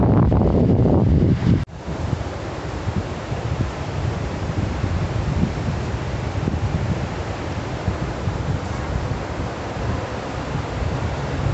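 Sea waves wash steadily where a river meets the sea at high tide near Alibaug, a continuous broad surf roar with wind buffeting the microphone, loudest in the opening seconds before settling into an even, unbroken rush.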